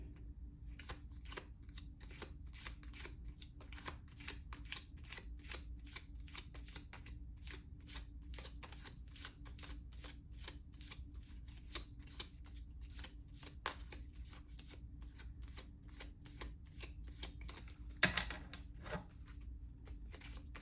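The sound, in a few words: tarot cards being shuffled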